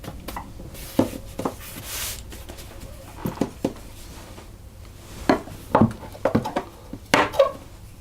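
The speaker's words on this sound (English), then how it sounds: "And then I'm just going to cut it into" A knife cutting Danish pastry dough into pieces, a series of soft, separate taps and thuds on a board, irregular and close, with brief gaps between cuts and no talking.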